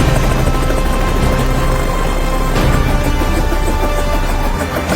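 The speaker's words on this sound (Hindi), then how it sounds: "आज हम लोग करने वाले हैं हेलीकॉप्टर राइड इन न्यूयॉर्क" Helicopter rotor and turbine noise roars loud and steady throughout a ride over New York, a dense continuous drone with no pauses.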